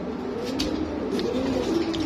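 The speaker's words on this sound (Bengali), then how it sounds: "এটা টিউলিপ কবুতর, বাগদাদির মতোই" A tulip pigeon, a fancy breed similar to a Bagdadi, gives low, soft rolling coos close by, continuous over a faint background with no talking.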